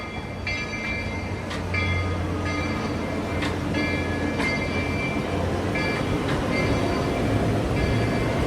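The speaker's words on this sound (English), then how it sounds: "you got the yellow Laffy Taffy monorail above our head there" Yellow Disney World monorail passing overhead, a steady rumbling rail drone with faint rhythmic clicks and high whine, moderately loud and continuous, with no talk.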